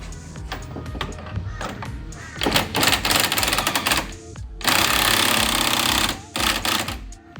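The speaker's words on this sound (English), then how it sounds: "And then you have to take the wheel off. Highly recommended to use a swivel on your rattle gun." An impact wrench removes the wheel from a drift car in a workshop, firing three loud, rapid rattling bursts over about five seconds with short pauses between them.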